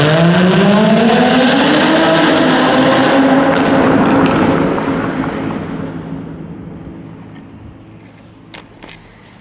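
Supercharged Jaguar F-Type V6 exhaust revs hard and loud up close, rising through several sweeping pitches before easing off and fading to a low idle, with a couple of faint clicks near the end.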